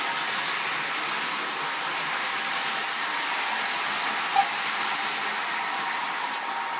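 A steady whirring rumble of two model trains, including a Class 158, slowing on a track, continuous and fairly even throughout, with one small click partway through.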